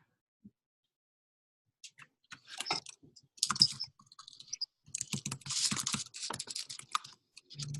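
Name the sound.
typing on a computer keyboard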